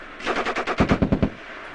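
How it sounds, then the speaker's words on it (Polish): Machine gun fire at a battle reenactment near Częstochowa, delivered as two quick bursts of about a dozen rapid, evenly spaced rounds, loud and close with a sharper second burst, and no voices. "Słyszę strzały na przedpolu."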